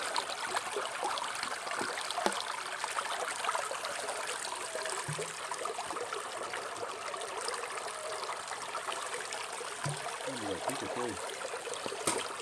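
Water swirls and trickles steadily in a gold pan beside a river during gold sluicing, a faint continuous wash with a few small knocks and splashes.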